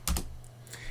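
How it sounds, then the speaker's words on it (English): A few quick keystrokes on a computer keyboard typing a terminal command, two close clicks followed by softer taps in a quiet room. "let's go to the terminal, and in the same model folder, type this."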